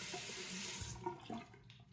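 Running tap water splashes into a sink as a Gillette Labs razor is rinsed under it, a steady close rush for about a second before cutting off into faint drips and handling clatter.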